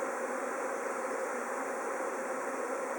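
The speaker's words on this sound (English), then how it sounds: "There's bees on the underside trying to get in." Continuous droning hum of a honeybee swarm buzzing together, steady and moderately close, with no voices.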